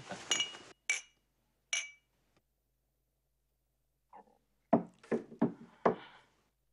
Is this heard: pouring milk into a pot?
no